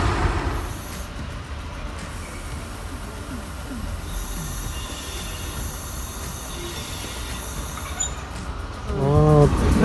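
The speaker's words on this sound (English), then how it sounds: "We are getting the train to Marsala today" A train bound for Marsala in Sicily runs along the rails with a steady rolling clatter and hum, high squealing wheel tones coming and going, and a louder rumble building at the end.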